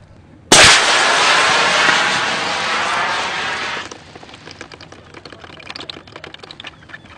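A Pains Wessex rocket line thrower fires with a sudden sharp blast, then gives a loud sustained rushing hiss for about three seconds. The hiss cuts off, and faint scattered rustles follow.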